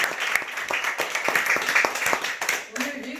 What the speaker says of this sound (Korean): 수고하신 연구님들에게 힘찬 박수